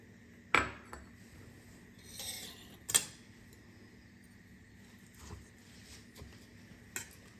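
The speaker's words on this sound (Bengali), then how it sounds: "এবার আমি এই মিশ্রণটাকে অল্প দুধ দিয়ে মিশিয়ে নেব।" A spoon stirs an oregano and chili flake mix with a little milk in a bowl, giving a few faint, scattered clinks and scrapes against the bowl over a quiet background.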